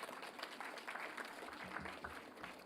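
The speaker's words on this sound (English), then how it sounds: "Give her a round of applause" An audience gives a steady round of applause for a forum award winner, a dense continuous patter of many hands clapping at even strength throughout.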